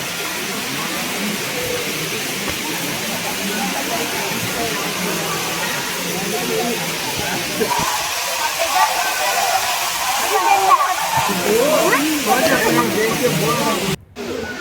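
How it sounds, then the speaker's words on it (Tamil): Kailasa Kona waterfall in Andhra Pradesh, about 100 feet high with a reduced flow, gives a steady broadband rushing roar throughout, with a voice talking over it. "இதாங்க கைலாசகுணா வாட்டர் ஃபால்ஸ்."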